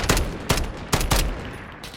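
FAL rifle firing in burst mode in a video game: five loud, sharp shots in quick uneven pairs and singles, each with a short ringing tail, close and alone without talk.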